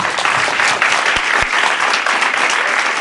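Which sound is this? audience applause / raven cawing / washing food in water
audience applause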